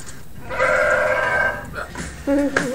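An animated goat in a student video game build bleats once, a loud nasal wavering cry lasting about a second, followed by a shorter bleat-like call near the end.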